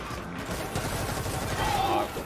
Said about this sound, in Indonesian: Coba kita pakai assault carbine kita,